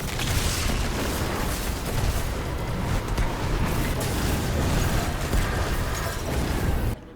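A heavy relic slam in Destiny 2 sends out a wave of fire, a dense, continuous rumbling roar of blasts and crackle that holds loud throughout before cutting off at the end.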